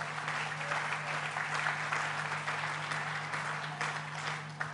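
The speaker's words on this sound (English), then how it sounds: "Let's give them a round of applause" A continuous round of audience applause at a governor's remarks at the Tribeca Festival, dense and steady clapping from a crowd, with a low steady hum underneath.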